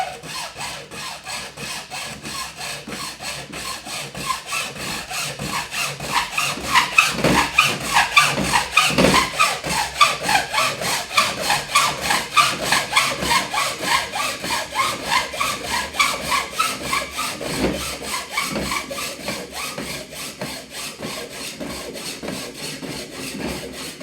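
A hacksaw cuts through plastic pipe for a bathroom tub installation, a steady close back-and-forth rasping rhythm of even strokes that builds slightly louder midway, with no talking.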